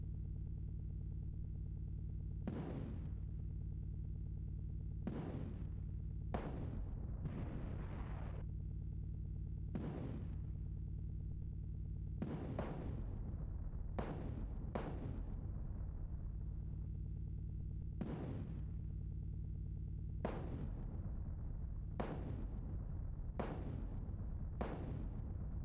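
Tank cannon shots and explosions from the SNES game Super Battletank 2: about a dozen sharp, booming blasts at irregular intervals, some in quick pairs, over a steady droning music bed with no talking.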